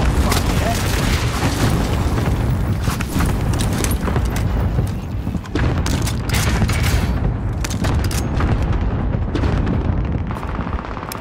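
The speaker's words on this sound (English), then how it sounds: "Enemy precision airstrike." Enemy precision airstrike explosions pound Rebirth Island in Call of Duty: Modern Warfare, a dense run of heavy booms and blasts mixed with gunfire, loud and close throughout.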